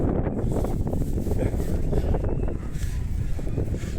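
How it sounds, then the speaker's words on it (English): Strong wind on a hilltop buffets the microphone in heavy, rumbling gusts, loud and continuous throughout. "Oh, it's fucking windy up here, isn't it?"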